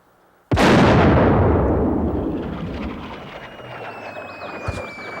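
A cannon fires once in a film battle scene. The blast is sudden, loud and close, and a long booming rumble rolls away for several seconds, followed by a faint later thump.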